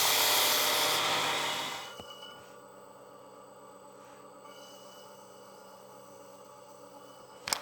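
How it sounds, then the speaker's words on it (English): Disc sander grinding a wedding ring, a loud broad whir for about two seconds that cuts off, leaving the motor spinning down into a quieter hum with a faint click near the end. "then we will disc it, believe it or not, using the disc sander"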